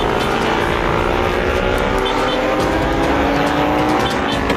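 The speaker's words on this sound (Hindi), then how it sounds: "सिपाही बाइक लेकर उसे उड़ गया।" A motorbike roars away at speed as a sound effect in a dramatised comedy story, a loud, sustained engine whine that holds steady and close throughout.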